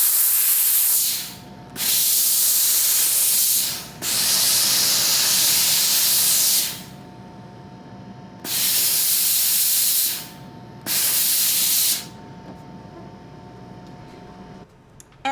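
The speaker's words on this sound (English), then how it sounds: "or this one, the steam will get it off" A steam iron hisses in several long, loud bursts as it lifts marks from cross-stitch fabric. The bursts come at fairly even intervals with short quiet gaps between them, and no one speaks.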